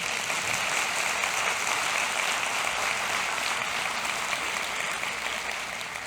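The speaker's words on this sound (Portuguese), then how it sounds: "eu queria pedir uma salva de palmas para as caminhadas domingueiras" A crowd at a Recife urban-planning event applauds the Sunday walks, a dense, even roar of many hands clapping that holds steady throughout without any voices.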